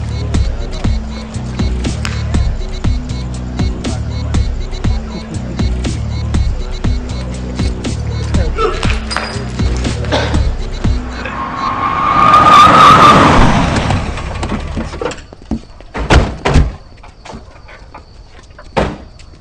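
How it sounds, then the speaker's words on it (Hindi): A car in a Meerut gangster street scene revs up and pulls away, a loud engine surge peaking midway over background noise and scattered clatter, then fading off as the car leaves and a few knocks follow. "चल जल्दी कर, गाड़ी स्टार्ट कर।"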